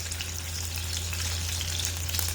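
Steady sizzling of large shrimp frying in hot oil in a pan for gambas al ajillo, a continuous crackling hiss with a low hum underneath, no voices.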